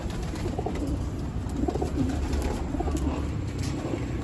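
Racing pigeons cooing after being fed, soft low coos repeating under a steady ambient wash, fairly close and continuous.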